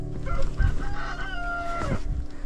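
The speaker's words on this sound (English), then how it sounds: "Look at these chickens outside." Chickens cluck and a rooster crows outdoors in deep snow during a winter storm, the calls close and fairly loud over a steady low background hum.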